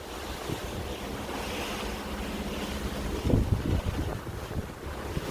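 Strong wind buffets the microphone on a Disney Dream cruise ship deck in a constant rushing roar, with waves and water sloshing beneath and a few heavier gusts partway through.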